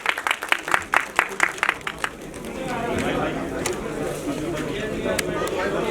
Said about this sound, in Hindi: Give a big hand for him, everyone.